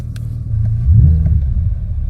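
Chevrolet Corvette C8 Z06 with a 5.5-litre naturally aspirated engine, revved in neutral, giving a deep low rumble that swells into a louder rev midway through and holds steady, with no talking.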